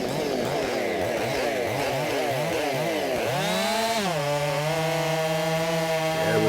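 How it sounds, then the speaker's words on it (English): Two Husqvarna Rancher chainsaws (50, 51 and 55 models) cut together through a big block of pine about 13 by 14 inches at a timed competition, their engines whining loud and close with pitch dipping and climbing under load. "Both saws gnawing away at the wood"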